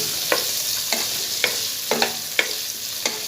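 Paneer fries in mustard oil with a steady close sizzle, punctuated by about six sharp spatula taps and stirs at a fairly even pace.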